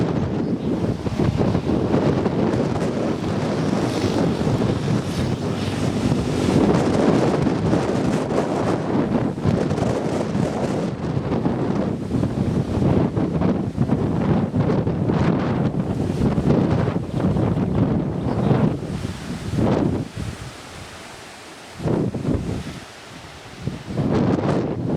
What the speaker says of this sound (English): wind's dropped a little bit